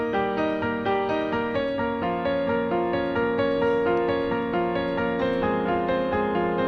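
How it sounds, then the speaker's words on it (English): Piano playing steady broken-chord arpeggios mixed with sustained chords in an even, flowing rhythm, bright and close with no voices. "there are arpeggios and chords that are being played right now in a specific rhythm"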